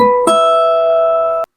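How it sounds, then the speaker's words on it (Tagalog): A clear, bell-like chime of ringing guitar harmonics sustains evenly after a light pluck, then is abruptly cut off. "Yung harmonics, ganito yung tunog niyan."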